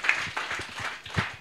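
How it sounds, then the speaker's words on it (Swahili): Congregation at a Swahili-language church service clapping in praise of Jesus, a brief run of uneven, close hand claps repeating roughly every few tenths of a second. "Pigie Bwana Yesu makofi mazuri"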